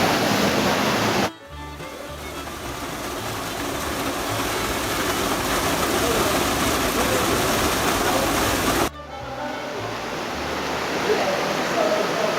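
Water rushing inside a cave during a fishing trip: a loud, continuous roar filling the space, briefly cut twice, then resuming just as strong.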